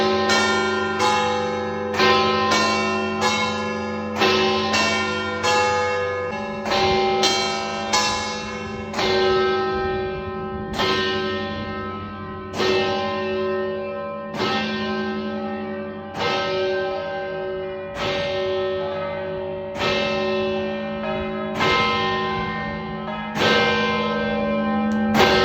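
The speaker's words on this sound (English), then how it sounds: "if you like bells going off right above your head" Church bells swing and ring in a bell tower right overhead: loud, overlapping clangs with long shimmering decays, struck in an irregular rolling rhythm throughout.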